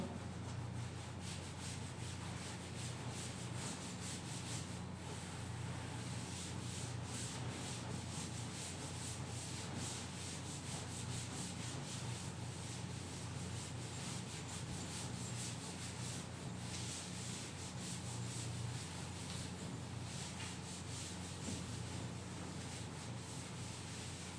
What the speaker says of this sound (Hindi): तो चलिए इसको अब मैं रब कर दे रहा हूं।